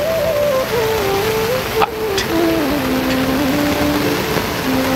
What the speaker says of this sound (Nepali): हेर्दा हेर्दै निकै ठुलो पानी पर्नु